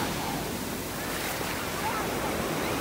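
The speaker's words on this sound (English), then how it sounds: "These are some nice waves for this coast." Surf rolling onto a Naples, Florida beach in North Naples, a steady broadband wash of breaking waves with some wind noise on the microphone, continuous and fairly close, with no voices.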